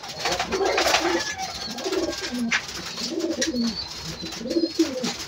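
Soft, repeated cooing of pigeons in low rolling phrases, several birds close by over a faint background hiss.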